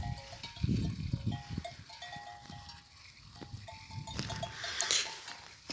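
Sheep and goats bleat intermittently at moderate distance, mixed with faint farm background noise and occasional clanks.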